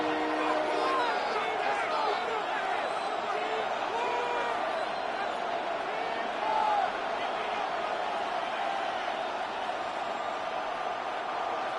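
A football stadium crowd roars steadily from a distance before a 3rd and goal play late in a Patriots game, a continuous wash of cheering and whoops with announcer talk over it.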